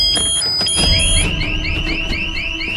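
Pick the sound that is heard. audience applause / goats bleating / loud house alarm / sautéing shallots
loud house alarm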